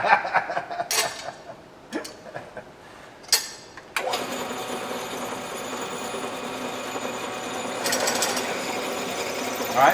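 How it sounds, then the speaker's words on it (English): A drill press spins up from a start with a steady mechanical whine and a slight wobbling vibration as it settles, preceded by a few short clunks and taps, running continuously close by with no talk. "we got a little bit of vibration as it's trying to find itself, it's trying to find its center"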